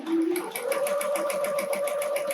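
A sewing machine stitches quilt pieces for a snowman quilt in a fast, even mechanical run of needle strokes, close and steady with no pauses.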